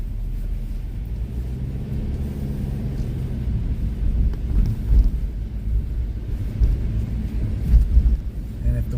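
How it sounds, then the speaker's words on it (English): Strong wind gusts during a snowstorm at Niagara Falls buffet the microphone with a low, surging rumble that swells and fades in bursts, loudest near the end. "our 100-kilometer-an-hour wind gusts and all this snow"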